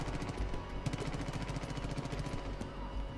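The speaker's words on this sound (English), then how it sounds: "Where are the gunshots coming from?" Gunfire in the Far Cry 5 video game crackles at a distance, rapid bursts and single shots overlapping in a busy, faint firefight with no voices.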